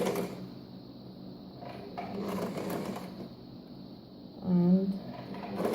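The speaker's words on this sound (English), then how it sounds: "we're going to start sewing our back stitch first" Sewing machine back stitching on slippery satin fabric, a soft whirring run with a brief louder burst near the end, heard close under quiet room sound.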